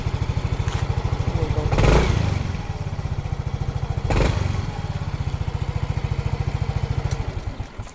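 A scooter engine runs steadily with rapid pulsing chugs, while two louder dragging swells rise and fade as a sticking brake shoe catches the wheel; close and continuous with no talking.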